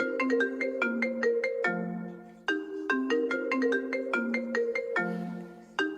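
A mobile phone ringtone plays alone on a bed in a room, a bright repeating melodic pattern of quick notes with short pauses between phrases, steady and fairly close.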